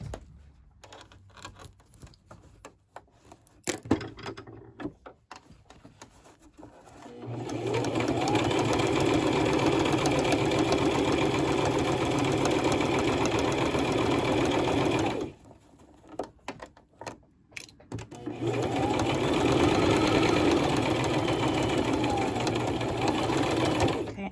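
A sewing machine stitches a fabric face mask with adjustable ear loops in two long, steady, loud runs of rapid whirring, separated by pauses with handling clicks and brief talk.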